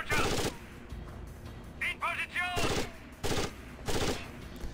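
Machine gun fire in the shooter game Rainbow Six Vegas, several loud sustained bursts separated by short pauses, with faint radio-like chatter between them.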